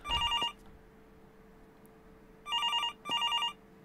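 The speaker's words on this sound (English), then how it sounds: "Phone is ringing!" A telephone rings in the horror video game Inflicti, with three bursts of rapid electronic bell trilling separated by a long pause, loud and clear over a low hum.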